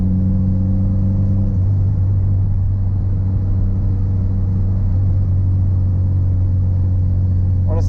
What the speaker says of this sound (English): It likes to idle sometimes now.